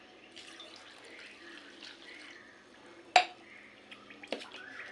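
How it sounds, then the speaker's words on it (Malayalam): Water pours softly from a glass into puttu flour mix, a quiet splashing wash with a sharper knock partway through and a few small clinks near the end. "മിക്സാക്കിയ ശേഷം ഇതേ അളവിൽ വെള്ളം എടുക്കുക."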